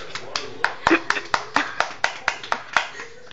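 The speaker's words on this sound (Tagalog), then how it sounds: "Ayan po, palakpak po." A small group clapping hands during a magic show, a loose run of about a dozen sharp, uneven claps over a few seconds with voices murmuring underneath.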